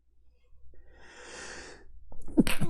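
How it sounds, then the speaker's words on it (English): A single person sneezes during a tabletop card game session: a drawn-in breath builds, then a sharp explosive burst of air, close and alone without talk. "Had a sneeze."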